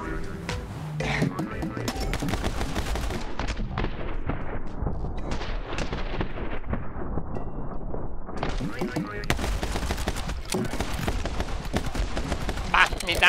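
Rapid bursts of gunfire in the video game My Friend Pedro crack repeatedly in dense volleys, loud and close, with a short lull before the shooting resumes.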